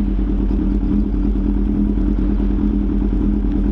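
A Kawasaki H2 Carbon motorcycle rides along, its engine a steady, loud, close drone with a low rumble and no talking.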